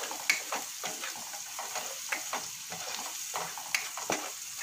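Chickpea chaat mixture seasoned with salt, stirred in a pan with a spoon: steady scraping strokes and soft clicks of utensil on metal over a faint, even background hiss, close and moderately quiet.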